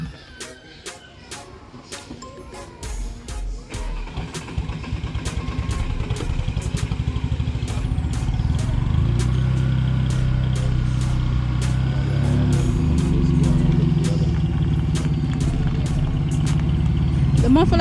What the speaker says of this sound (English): The muffler blow? Then why it sound so loud?